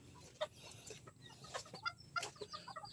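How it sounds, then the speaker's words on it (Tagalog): Brazilian bantam chickens cluck softly nearby in short, scattered bursts, several birds calling over a quiet farmyard background. "ang mga Brazilian kong mga manok."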